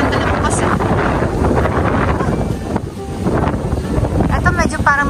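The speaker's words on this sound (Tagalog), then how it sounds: "Wow, malakas ng hangin." Strong wind buffets the microphone in loud gusts on an island waterfront in Abu Dhabi, with voices talking over the rushing air.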